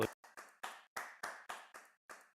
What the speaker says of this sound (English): let's see a big round of applause